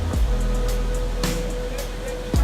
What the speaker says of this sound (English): Certainly plenty of water in this waterfall at this time of year